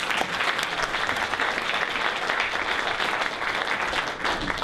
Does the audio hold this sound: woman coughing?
no